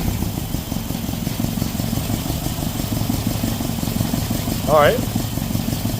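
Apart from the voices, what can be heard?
Datsun engine idling roughly with coil-on-plug setup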